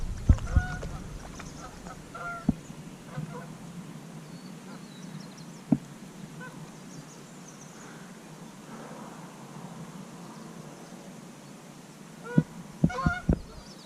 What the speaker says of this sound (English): Oh, I got some geese coming again.